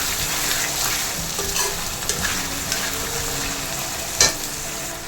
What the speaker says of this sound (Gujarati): નમકને આપણે મિક્સ કરી દઈશું.